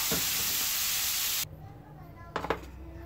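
Onions fry softly in a pan with a loud, even sizzle that cuts off abruptly partway through, leaving quiet room tone and a couple of brief clinks.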